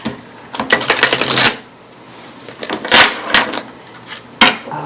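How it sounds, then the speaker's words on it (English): Tarot cards being drawn and handled from a deck during a card reading, giving several short bursts of papery shuffling and snapping, close and fairly loud, separated by quiet gaps. "So let's get a couple of the last few cards out here for you"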